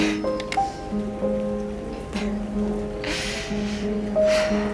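Rain falling in the video game South of the Circle, a soft steady patter under sustained musical tones and a few breathy sounds.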